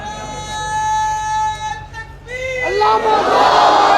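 A crowd chants religious slogans at a gathering of the Jamiat Isha'at al-Tawheed wal-Sunnah. A lone sustained voice-like tone comes first, then a loud, dense crowd roar swells up and holds to the end.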